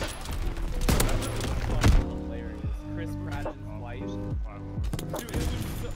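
Enemy artillery shells in a WW2 video game land in heavy booming thuds and bursts, with a loud impact near the two-second mark and more blasts through the middle and end, mixed with game voices and chatter.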